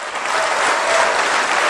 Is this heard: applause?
yes